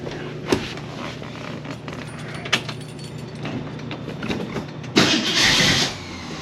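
A Ford Mustang starts up after a few quiet clicks and handling noises, with a sharp burst at the start and a louder surge near the end as the engine catches and runs briefly.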